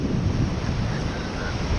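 Rushing waterfall on a freezing, windy day: a dense, steady roar with heavy wind buffeting the microphone, loud and unbroken throughout.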